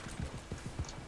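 Horse hooves clip-clop in Red Dead Online, a quick run of roughly five soft, evenly spaced thuds at moderate distance, with no talk over them.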